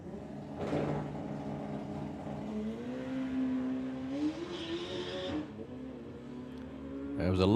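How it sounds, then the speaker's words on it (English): A drag racing car making a run at the Summer Nationals: a sustained, strained tonal whine that wavers and bends in pitch, with bursts of harsher noise, ending in a louder surge. "There was a lot of squealing going on there."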